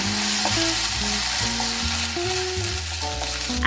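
Chinese fried rice sizzles steadily in a hot wok while it is stirred and tossed, with the spatula scraping and clinking. Music plays underneath, and no one speaks.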